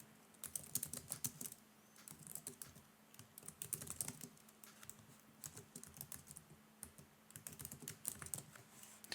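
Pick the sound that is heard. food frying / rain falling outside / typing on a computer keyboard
typing on a computer keyboard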